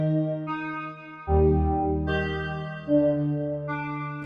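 Layered synth melody in FL Studio using the Key Caroline preset, sustained chordal notes shifting every second or so, with a deep bass layer entering partway through, played alone and fairly loud.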